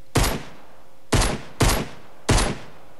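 Four sharp pistol shots ring out in the video game Fortnite, single loud cracks with short decaying tails, spaced irregularly with two fired in quick succession, and no voices.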